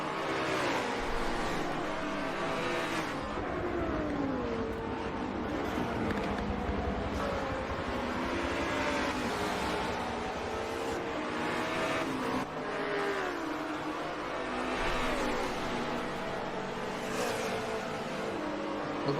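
GT4 race cars roar down the straightaway at Watkins Glen in a sim racing game, engines droning and shifting pitch continuously as several cars run close together, loud and sustained throughout.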